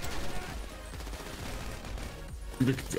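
Gunfire in GTA Online rattles in rapid bursts, a dense, fairly faint fusillade of shots running continuously, with a sharper burst near the end.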